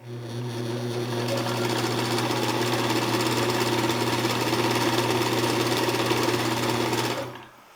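A Sears Kenmore sewing machine winds a bobbin under the foot pedal, a steady close-up motor whine with a strong low hum running continuously before cutting off abruptly at the end.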